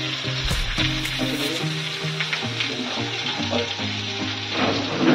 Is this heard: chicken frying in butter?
yes